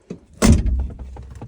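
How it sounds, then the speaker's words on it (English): A Dodge Magnum car door swings shut with a single heavy, close thud that rings out briefly after a faint click. "I wanna make sure the doors close perfectly fine."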